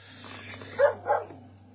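Dog barking indoors, two sharp barks in quick succession, close and clear over a low steady hum, with no voices.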